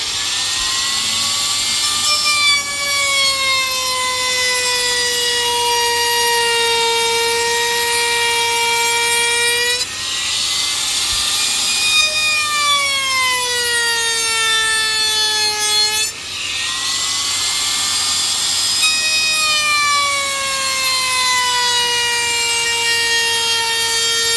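Wood router fitted with a round-over bit trims along a wooden edge, a loud high whine that holds steady and drops in pitch as each pass bites, repeated in three long passes close by.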